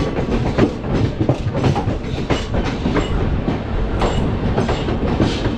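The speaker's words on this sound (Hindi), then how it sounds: "कोई ट्रेन शायद शंट होने जा रही है न्यू दिल्ली में।" A parcel express train moving through New Delhi station, giving a continuous heavy rumble with rhythmic wheel clatter and metallic rattling close by, no talking.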